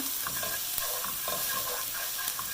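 Spices such as cinnamon, lemongrass and ginger frying in a pan for Vietnamese beef stew (bo kho), a close, even sizzle with rhythmic stirring scrapes and light crackle, no talking.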